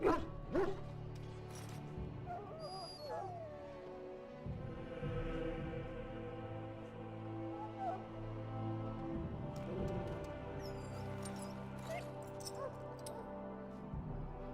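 Dog in a pen in the video game Dragon Age Origins, yipping and whimpering in short bursts over a quiet ambient music bed, fairly faint with soft pauses between sounds.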